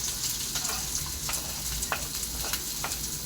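Beetroot sizzles steadily in a hot pan as chopped onion is tipped in for a Kerala-style beet thoran, with a continuous hiss and a few brief stirring scrapes.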